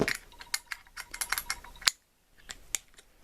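Wrench snugging the guard on a Harbor Freight 4-inch angle grinder: a close series of quick light ratcheting clicks and metal taps, a brief pause, then a few more clicks.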